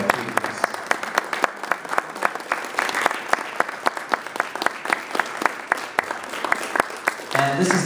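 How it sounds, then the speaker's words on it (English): An audience at a wine and tapas event claps steadily, the applause dense and fairly close, with a voice speaking over it near the end. "a big round of applause for our Thieves"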